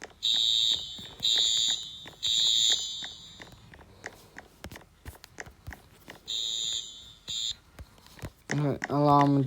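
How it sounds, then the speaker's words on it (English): A fire alarm blares in repeated long high-pitched bursts, loud and close, pausing between sets while people talk and move around, then cuts off near the end as a voice speaks. "The alarm just stopped ringing."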